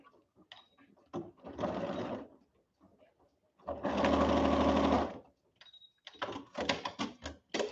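A sewing machine stitches quilted fabric for a clip cushion in short, loud, close bursts of steady motor whirring, separated by pauses filled with small clicks and handling noises.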